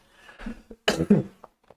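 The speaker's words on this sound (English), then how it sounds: "sorry for the cough" A single harsh cough bursts out near the middle, preceded by a few soft breathy sounds and followed by brief faint clicks.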